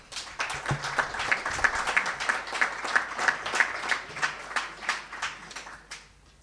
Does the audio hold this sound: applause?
yes